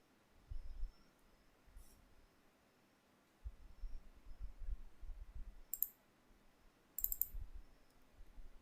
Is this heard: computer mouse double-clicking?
yes